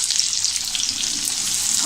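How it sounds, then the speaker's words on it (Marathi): Onion frying in an oil tempering of mustard seeds, cumin and curry leaves for a whole lentil curry, with a loud, close, steady sizzle and light stirring scrapes. "कांदा आपल्याला गुलाबी रंग येईपर्यंत परतून घ्यायचा आहे"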